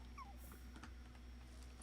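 A dog whimpers softly indoors, giving a few brief, thin whines over a quiet steady hum.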